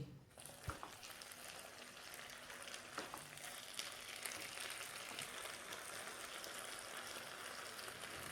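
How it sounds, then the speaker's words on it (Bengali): Dheki shak fern greens stirred in a pan over low heat, a soft continuous sizzle with faint scraping and a few light knocks from the spatula, quiet and steady throughout. "আবার একটু নেড়ে নিচ্ছি"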